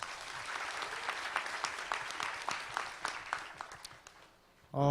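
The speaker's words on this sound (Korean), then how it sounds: "박수 한번" Applause from an audience at a startup venture forum, a steady crowd clapping with distinct individual claps that thins out near the end before a voice cuts in.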